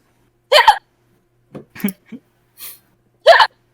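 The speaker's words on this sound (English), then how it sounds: "I just get hiccups" Hiccups from a player during a tabletop Dungeons & Dragons session: several sharp, close bursts spaced about a second apart, with a few short voiced sounds between them.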